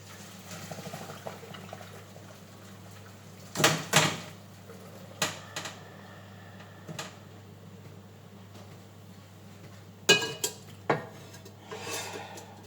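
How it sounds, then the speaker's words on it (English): Boiled potatoes for tovchanka are drained from a pot into a colander, with a few clanks of metal cookware and light splashing over a low steady hum. "I'm just gonna quick drain these potatoes"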